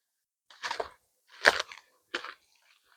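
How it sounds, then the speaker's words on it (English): A horse licks and chews in three short, close bursts of wet, crunchy mouth noise separated by pauses, with no talking. "I think she's licking and chewing."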